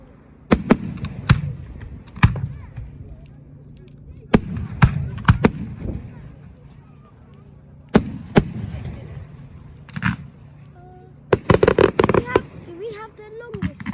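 Fireworks go off outdoors in a series of sharp, loud bangs and crackling bursts, some isolated and then a rapid cluster near the end, with people talking between them.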